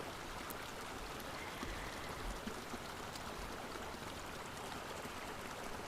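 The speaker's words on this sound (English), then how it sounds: "behind me, as I said, there's this stream of water" A small outdoor stream of water flowing, a soft, continuous rushing and trickling wash that stays even and faint throughout, with no voices over it.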